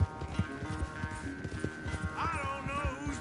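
An Arabian horse gallops in Red Dead Redemption 2, its hooves drumming in a quick steady rhythm under game music, with a brief whinny near the end.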